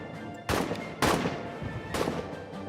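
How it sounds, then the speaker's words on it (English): Artillery fire in the trench warfare game All Quiet in the Trenches, three sharp, booming blasts about half a second apart and then another after a longer gap, each with a rumbling tail over steady background noise. "Heads down, artillery."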